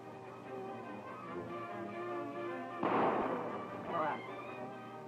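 Sharp gunshot cracks from a 1935 western film, one loud report near the three-second mark and a second around four seconds, set over a steady background of music or dialogue.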